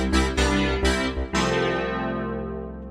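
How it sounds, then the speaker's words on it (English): Layered velocity-sensitive piano patch on a Korg multi/poly synthesizer, with four struck chords in quick succession, the last left ringing and slowly decaying, loud and close with no talk. "we get like just a really nice velocity sensitive piano effect"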